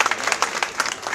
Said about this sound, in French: encore des applaudissements pour Dr Massamba Diop